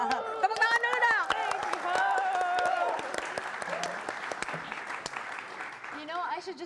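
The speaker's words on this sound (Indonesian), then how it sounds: "Tepuk tangan dulu dong." Studio audience clapping on a talk show, a sustained wash of applause with some crowd chatter and voices layered over it, steady and fairly loud throughout.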